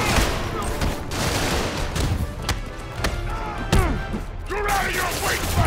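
Gunfire in the video game Marvel's Spider-Man Remastered sounds in sharp, repeated bursts mixed with thuds and impacts. Voices speak between the shots.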